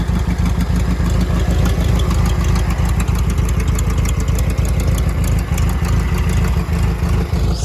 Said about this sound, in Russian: Так вот работает на холостых.